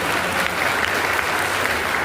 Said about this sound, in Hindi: मैं समझता हूँ कारी नदवी साहब के लिए जोरदार तालियां आगे बढ़ रही।